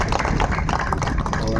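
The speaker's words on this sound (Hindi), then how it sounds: "तालियां बजा दो यार।" An audience at an Indian public event on women's development claps in dense, continuous applause that fills the moment at steady loudness, with no single claps standing out.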